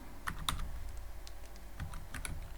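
Keys clack on a computer keyboard as Python code is typed, a quick, light run of close taps with brief pauses.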